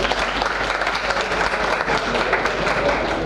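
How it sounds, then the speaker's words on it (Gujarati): Audience at a Chardham Bhagavat Katha pilgrimage gathering breaking into loud, continuous applause, dense clapping from many hands filling the whole stretch without a break. "જોરદાર તાળીઓથી પટેલને વધાવી દે."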